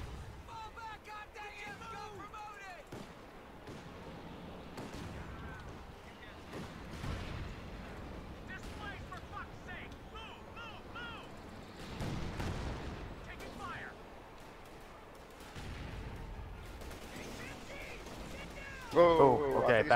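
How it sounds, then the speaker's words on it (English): Heavy artillery fire in a Company of Heroes 2 4v4 battle, with repeated booming impacts and gunfire scattered through a dense wartime din, heard under frequent talk from players. "That heavy artillery's fucking his tanks up."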